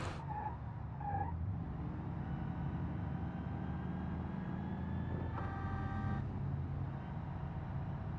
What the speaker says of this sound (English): This thing sounds supercharged.